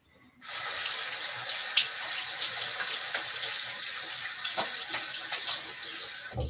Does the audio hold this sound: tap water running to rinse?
yes